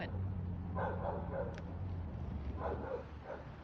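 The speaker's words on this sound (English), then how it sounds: "there's somebody else dog barking all day too" A neighbor's dog barks in the distance, a few faint muffled barks heard outdoors over a steady low rumble of traffic or an idling car.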